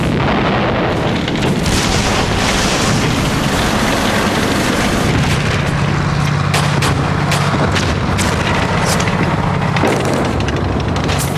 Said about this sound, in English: On December the 16th, 1944, the Germans opened fire.